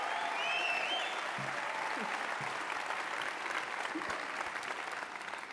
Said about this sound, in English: You guys started cheering even before the show started.